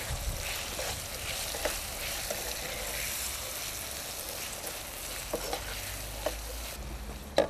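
Potatoes with garam masala and spices sizzle softly in a hot pan while being stirred, with a steady frying hiss and occasional light clinks and scrapes of the utensil, fairly quiet and close.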